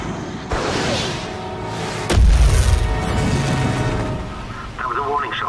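A warning shot fired at an aircraft in restricted airspace lands as one loud deep boom, followed by a rumbling tail, in a dramatized scene with people speaking around it.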